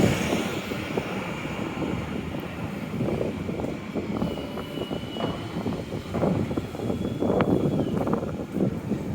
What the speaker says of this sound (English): And it's getting windy again.